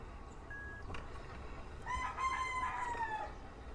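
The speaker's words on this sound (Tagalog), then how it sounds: "Ay manok yung naririnig." A rooster crows once in the distance, a faint drawn-out call rising and falling over low background noise outdoors.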